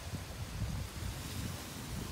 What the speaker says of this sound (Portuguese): Da hora o barulhinho da árvore, né?